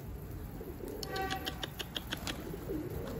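Pigeons coo and flutter nearby in a sequence of soft calls over a low background hum, fairly faint.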